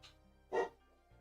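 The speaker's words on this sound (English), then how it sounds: "Dang dogs." A household dog gives a single short bark in a quiet indoor room, moderately loud and slightly distant, with a faint yip just before it.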